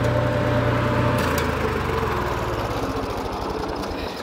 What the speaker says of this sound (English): Shut the tractor down real quick.